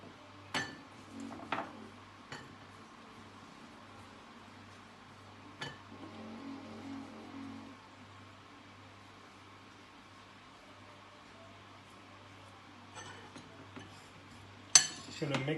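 A spoon mixes salt, turmeric, ginger and green chili in a bowl for lime pickle, with scattered metallic clinks and taps separated by long quiet stretches over a low steady hum.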